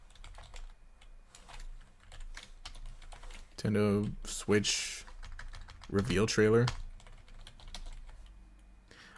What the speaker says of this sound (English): I'm having trouble typing best because my mic is in my way a bit.